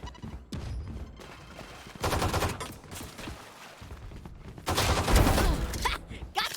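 Pistol gunfire in a video game, sharp bursts of shots in uneven clusters, some rapid and overlapping, loud and close, with a voice talking in between.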